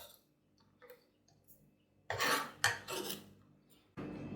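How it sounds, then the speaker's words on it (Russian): Onion stirred into grated potato in a bowl for eggless, flourless potato pancakes: quiet scraping at first, then a few louder wet mixing and utensil-against-bowl scrapes, close by. "Полученный лук перемешиваем с натертым картофелем."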